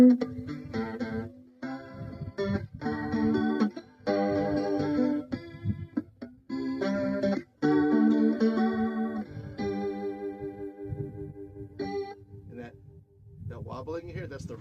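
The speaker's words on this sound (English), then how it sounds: "That wobbling you hear, that's the rate." Electric guitar through a multi-effects unit with the modulation rate turned low, giving a slow chorus-like wobble across played chords and notes, fairly loud and steady with brief gaps between phrases.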